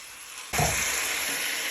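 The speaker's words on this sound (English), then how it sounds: "we're just frying our chicken till it goes nice and brown on each side" A sudden loud sizzle as chicken hits a hot pan, then a steady frying hiss that continues without voices.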